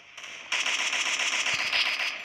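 Grenade explosions in the Free Fire shooter game burst in suddenly and roll into a dense, sustained crackling blast with a few deeper thumps, loud and steady before easing off.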